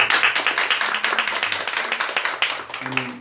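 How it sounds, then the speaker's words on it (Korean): A church congregation claps hands together in a lively, fast and fairly even rhythm that fills the room, with a few murmuring voices faintly beneath. "힘내라고 박수 한번 쳐줍시다."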